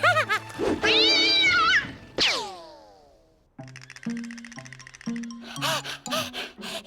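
A cartoon cat in the animated series Horseland lets out a loud, drawn-out meow and a sharp yowl, followed by bouncy plucked cartoon music.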